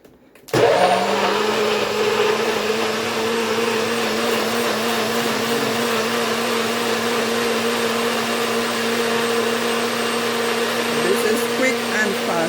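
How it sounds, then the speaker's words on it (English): A blender blending cucumber juice starts abruptly and runs at a steady, loud whirring pitch, continuing without pause until the end. "Yeah, this blender is so good."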